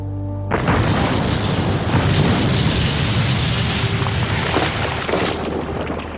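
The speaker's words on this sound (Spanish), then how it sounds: "el sonido atronador de las explosiones" Battle explosions from the fighting in Berlin: a massive boom erupts abruptly and rolls on as a loud, sustained thunderous roar with further blasts layered in, no voices.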